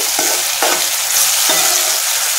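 Onion, tomato and masala frying in a pan for a country chicken curry, a loud steady sizzle close by with occasional scraping stirs of a spoon, no voices.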